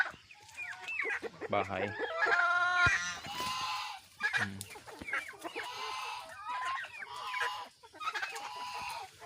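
Pure-breed brown Dekalb hens around four months old clucking and calling in a coop, busy overlapping clucks and squawks close by, with a brief word spoken at one point.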